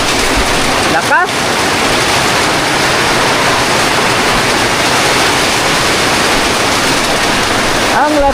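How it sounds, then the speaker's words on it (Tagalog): Heavy rain pouring steadily onto a house roof, a dense, loud, unbroken hiss that holds at the same level throughout with no one speaking. "Pumapatak na naman ang ulan sa bubong ng bahay."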